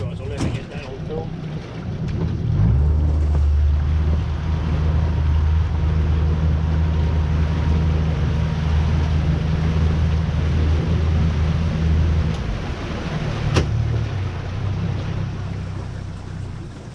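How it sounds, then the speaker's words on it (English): A boat engine starts and runs with a steady low rumble, close by, with wind buffeting the microphone; the motor drops briefly near the end and resumes. "I'll just back the boat up because that's no good."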